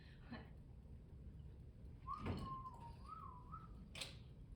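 A person whistles a wavering, sliding tune on a stage during a live theatre performance, moderately near but faint against a steady room murmur, lasting about a second and a half.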